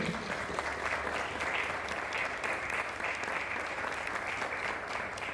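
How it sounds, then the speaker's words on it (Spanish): A church congregation applauds a couple, dense steady clapping from a room full of people, even and sustained from start to finish with no voices breaking through. "A ver, un aplauso para ellos"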